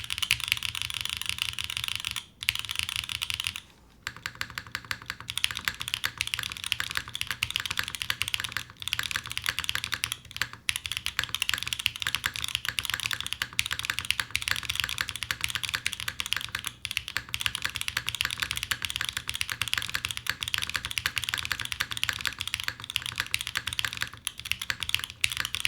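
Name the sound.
typing on Wind x98 keyboard, Obscura switches, GMK keycaps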